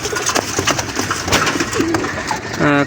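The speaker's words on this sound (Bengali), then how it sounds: "কবুতরগুলো দেখুন আপনারা" Nila Kamagar pigeons coo softly amid rustling and fluttering nearby, with a brief rising call near the end.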